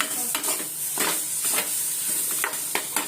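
Onion and potato vegetables sizzling and frying in a home kitchen pan, a steady close hiss broken by repeated stirring scrapes about every half second, with no talking.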